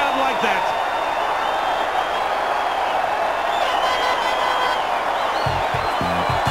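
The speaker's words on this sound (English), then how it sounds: "Only Jeff Wilson could delight the Carisbrook crowd like that." A rugby crowd at Carisbrook roars steadily and loudly for a Jeff Wilson try in 1994, a dense and continuous cheer with a commentator's voice talking over it.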